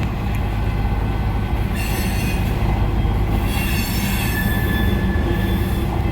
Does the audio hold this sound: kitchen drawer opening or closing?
no